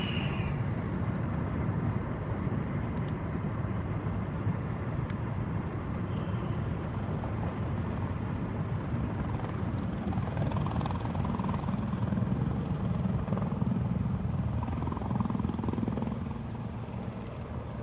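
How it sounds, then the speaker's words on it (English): Helicopters flying overhead, a continuous low rotor drone that stays steady and moderately loud for the whole stretch, with no one talking. "Choppers."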